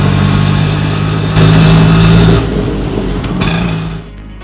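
An auto rickshaw engine runs close and loud, holding a steady drone that swells briefly, then eases off and fades out near the end.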